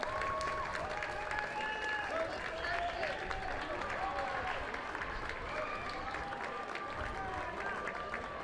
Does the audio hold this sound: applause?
yes